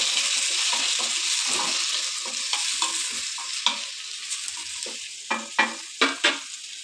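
Peeled tomatoes go into hot oil in a pan, giving a bright continuous sizzle with several sharp spoon clacks and stirring scrapes near the end, close and fairly loud.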